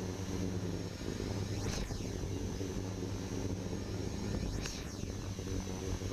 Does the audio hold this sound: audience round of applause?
no